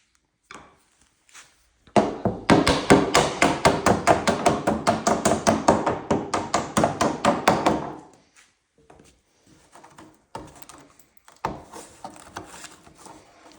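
A hammer taps quickly and steadily against old damaged fiberglass, making a loud sharp string of blows for several seconds, followed by scattered lighter knocks.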